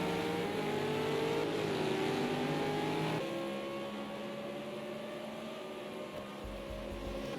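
V8 Supercars in a racing video game at the Hockenheim circuit, engines droning steadily and shifting pitch as the cars run down the back straight into a chicane, moderately loud with no talk.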